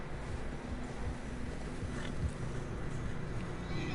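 Horses plod through fresh snow in Red Dead Redemption 2, their steady hoof falls soft and muffled under a constant wintry wind bed, with no voices heard.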